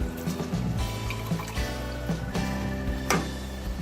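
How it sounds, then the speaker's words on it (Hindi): About 700 grams of rice poured into roughly 1.5 liters of boiling water for an Arabian chicken mandi, giving a close pattering, trickling rush with a few sharper splashes over a low kitchen hum. "ये पानी हमारा बिल्कुल बॉयल हो गया है। अब इसमें हम डालेंगे चावल।"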